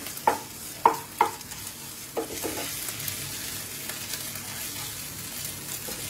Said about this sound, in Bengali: এখন আদাটাকে আমি একদম মশলার সাথেই কষিয়ে নেব